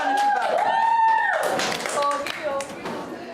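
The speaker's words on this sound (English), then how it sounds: "Give yourself a clap." A roomful of children claps a few quick, sharp bursts amid lively chatter and spoken voices, the patter of hands uneven and close, with a short thud mixed in.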